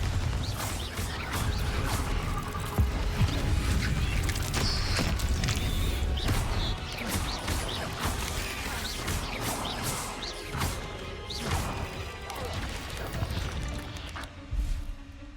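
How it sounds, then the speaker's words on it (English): A Bombarda spell in Hogwarts Legacy sets off blasts that smash objects, giving a dense, continuous clatter of crashes, creaks and debris impacts, loud and busy from start to finish. "Bombarda!"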